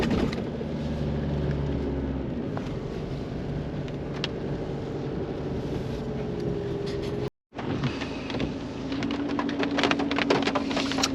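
Rain falls steadily around a creekside campsite in the Conondale area, a continuous close hiss of drops on surfaces that cuts out for a split second before carrying on.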